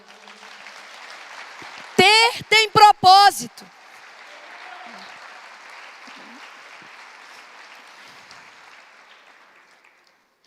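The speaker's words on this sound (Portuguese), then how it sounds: "Vamos aplaudir ao Senhor?" Church congregation applauding, a soft sustained patter of many hands clapping at a distance, rising after a brief spoken line and fading gradually over several seconds.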